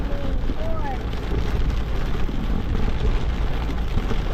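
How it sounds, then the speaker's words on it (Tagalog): Heavy rain roars steadily around a vehicle on a highway road trip through Leyte, a dense, loud wash of noise with no letup, and no voices come through over it. "Grabe, sobrang lakas ng ulan guys."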